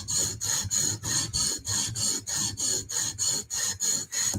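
Blade edge stroked against a stone on a TSProf Kadet guided sharpener, working a burr at the heel of a Ruike or CRKT M16 folding knife: a close, steady series of about a dozen rhythmic raspy strokes.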